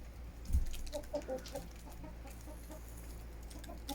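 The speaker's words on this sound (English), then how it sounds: "I can't imagine that's not a rooster." A backyard homestead chicken flock in winter gives off a few soft clucks and short fowl calls, moderately close, over a steady low hum with no talking.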